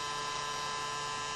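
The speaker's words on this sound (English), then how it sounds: "Now we'll test the vacuum." Vacuum motor of a Roomba Disco 4210 robot vacuum running in built-in test mode, a steady even electric whine and hum held constant throughout, close and alone with no talk.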